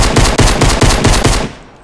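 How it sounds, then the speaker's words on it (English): Rapid automatic gunfire in Fortnite Battle Royale rattles in loud, evenly spaced bursts close by, then trails off into a fading tail. "Oh my god, he's getting shot at."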